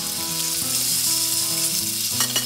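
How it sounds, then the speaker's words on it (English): Gold band snapper sizzles steadily in a hot, oiled frying pan, a dense continuous crackle and hiss at close range with a few sharper spits near the end and no talking. "Hear that sizzle?"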